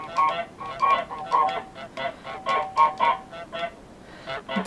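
The goose in Untitled Goose Game honks repeatedly, a string of loud, nasal honks in an uneven rhythm, up close with no talk over them.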